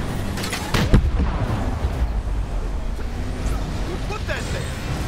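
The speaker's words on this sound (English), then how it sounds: "You gotta love that rapid fire." Rapid-fire rocket weapons in a video game battle race, a dense burst of booming shots and blasts over constant engine and race noise, loud and continuous with no pauses.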